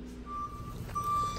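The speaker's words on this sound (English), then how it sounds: "Moving truck finally got here." A moving truck reversing, its backup alarm sending out steady tonal beeps in two long spaced bursts over a low idling engine rumble, close by.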